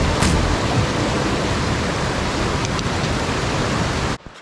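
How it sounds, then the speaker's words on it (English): A waterfall near the Santiam Wagon Trail roars as a loud, continuous broadband rush of falling water, steady throughout before cutting off near the end. "This waterfall is supposed to be second only to Niagara Falls by people who've never seen Niagara Falls."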